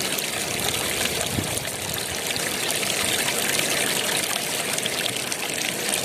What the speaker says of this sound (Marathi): इकडे बघितलं ना तर नदी बघा एकदम असे फुल भरले